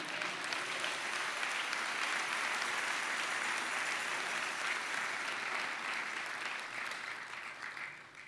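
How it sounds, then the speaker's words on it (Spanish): Congregation clapping in a church service, a continuous even wash of applause from many hands, moderately distant and steady for several seconds, tapering off toward the end. "¿Cuántos dan un aplauso al Señor?"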